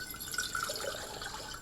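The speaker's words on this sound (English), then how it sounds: "I've got my cup, which is my non-standard measure, and I'm going to fill it up with some water." Water poured steadily from a tap into a cup, a continuous close hiss and splash with no breaks and no talking over it.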